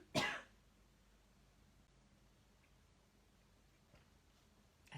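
A single sharp throat-clearing cough bursts out up close at the start, followed by near silence in a quiet room.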